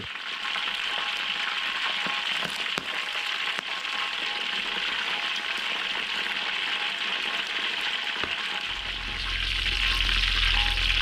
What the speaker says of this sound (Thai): ตอนนี้เราทอดรอบแรกนะครับ